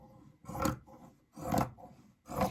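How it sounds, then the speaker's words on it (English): Scissors snip through fabric cut straight across for a no-sew face mask, three distinct rasping cuts in a steady rhythm, close and fairly quiet with no talking. "take my scissors and I'm just going to cut straight across"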